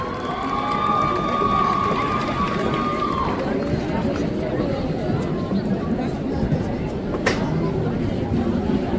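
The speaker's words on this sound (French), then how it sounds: "On l'applaudit bien fort, s'il vous plaît." A crowd applauds and cheers for a Star Butterfly cosplayer at the Japan Tours Festival 2024 cosplay parade; steady, dense clapping and crowd noise run throughout, with a brief high tone early on.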